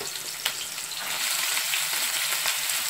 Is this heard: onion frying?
yes